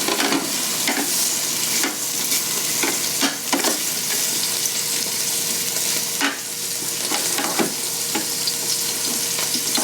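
Pork belly bites sizzle and crackle steadily in a hot pan, with repeated scraping and clattering as they are stirred and tossed, close and loud throughout.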